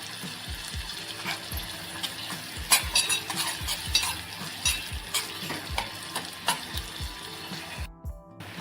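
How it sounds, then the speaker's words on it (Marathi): Chopped onion frying in a pan for Maharashtrian baingan bharta, a constant loud sizzle under rapid, rhythmic spatula scrapes and taps against the pan, stopping abruptly near the end; no talking. "ते बघा इथे आपला आता कांदा आता शिजत आला आहे"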